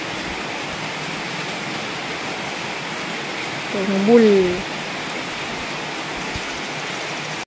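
Heavy rain pours down in a steady, dense hiss that fills the whole scene, with a person speaking briefly partway through over the constant downpour.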